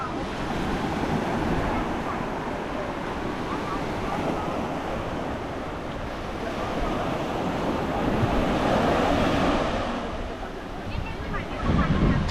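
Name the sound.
waves on Anjuna Beach, Goa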